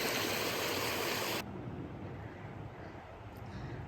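A small mountain stream runs under a hiking trail, a bright steady rush that cuts off abruptly partway, leaving quieter ambient water and wind.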